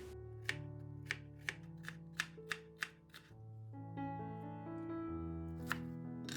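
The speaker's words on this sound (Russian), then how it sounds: "Часть болгарского сладкого перца мелко нарезаю." A knife finely chops sweet bell pepper on a board, giving about a dozen crisp, close strikes in a quick uneven rhythm, with soft music playing underneath throughout.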